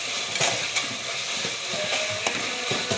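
Ginger garlic paste fries in a pot for a chicken biryani, a close, continuous sizzle and crackle with faint scraping taps of stirring, no voices.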